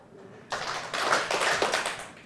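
A church audience at a Bible talk claps together in a short burst of hand claps that rises and fades within about two seconds, moderately loud with no voices over it.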